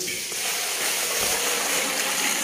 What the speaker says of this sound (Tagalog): Okay, lalagyan natin ng tubig.